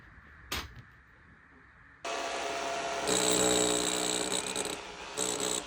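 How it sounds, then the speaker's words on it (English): A power drill bores a hole through a house wall for a rear CCTV camera: a sharp knock, then a loud motor whine that starts abruptly, rises in pitch and runs steadily with brief dips, close by. "So Pete has drilled the hole for the camera that's going at the back"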